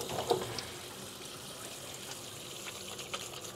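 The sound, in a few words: washing a reusable tissue with tap water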